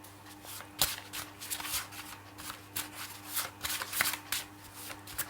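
Someone shuffles a deck of tarot cards by hand, up close. The riffles come in quick, uneven bursts of papery flicking with brief pauses between them and a faint steady hum underneath.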